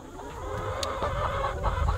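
Over a thousand chickens clucking inside a mobile farm coop with roosts, a dense continuous murmur of close and distant clucks with faint low rumble beneath.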